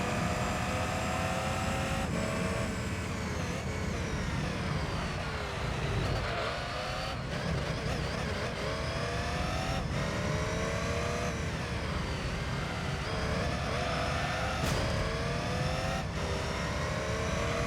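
A race car engine drones steadily through a lap of Rome in Gran Turismo 3, revs rising and dropping sharply at each gear shift, loud and continuous with no talking.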